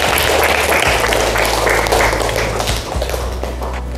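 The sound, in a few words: classroom applause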